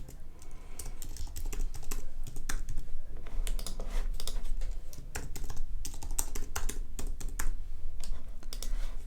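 Fingers type steadily on a computer keyboard close by, a dense, continuous patter of key clicks with small irregular pauses and no voices.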